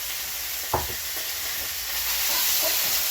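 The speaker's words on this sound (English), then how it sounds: "we're going to stir fry this just for about a minute" Pork slices and apple stir-fried in a pan, with a steady broad sizzle and a sharp clatter of a utensil near the start, the frying hiss swelling slightly louder toward the end.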